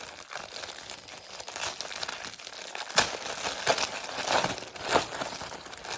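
Plastic packaging from a Temu order crinkles and crackles up close as it is pulled open, with a sharp tearing snap midway and continued rustling afterward.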